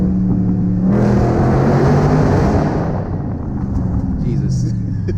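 A 2019 Dodge Charger Scat Pack's V8 roars loudly under hard acceleration, then an upshift cuts the note abruptly before the lower rumble resumes, echoing as if passing under an overpass.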